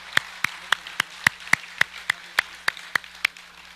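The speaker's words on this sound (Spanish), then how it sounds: "Dale un aplauso al Señor bien fuerte por esto." Loud, sharp claps at a church service ring out one by one in a steady, even rhythm, about a dozen in a row with quiet gaps between them.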